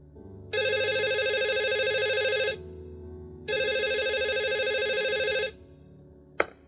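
A telephone rings twice, each ring a loud, even electronic trill lasting about two seconds with a pause between, followed by a brief click.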